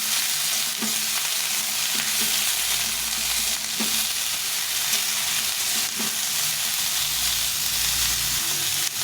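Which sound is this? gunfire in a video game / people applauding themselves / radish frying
radish frying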